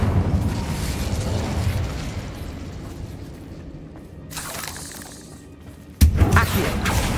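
Incendio fire spells erupt in Hogwarts Legacy as loud whooshing bursts, with a low roaring body fading into a quieter rumble before a sharp explosive blast and crackling flames rise again.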